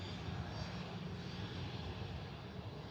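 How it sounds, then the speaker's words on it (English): A plane taking off at Memphis International Airport gives a steady, broad engine roar at a distance that fills the whole clip evenly, with no breaks and no voices. "I don't think we'll be able to see much of that takeoff."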